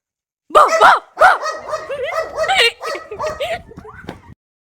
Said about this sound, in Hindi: देखो गाइस वहाँ कितना क्यूट सा डॉगी है, वो हम लोग को देख के भौंक रहा है।